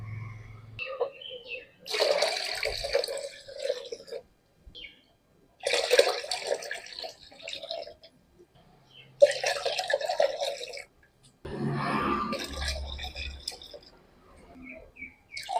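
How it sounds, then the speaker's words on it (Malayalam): Water poured from a cup into a vessel to dilute fertilizer for hibiscus plants, in four separate splashing pours with quiet pauses between them, fairly close. "ഇപ്പം നമ്മൾ അഞ്ച് കപ്പ് വെള്ളവും ഇതിനകത്തേക്ക് നമ്മൾ ചേർത്ത് കഴിഞ്ഞു"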